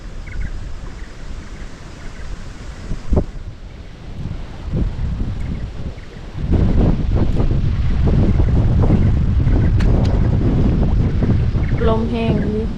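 Strong wind buffets the microphone out on a boat, a steady roaring rush that grows louder midway, with people speaking briefly over it.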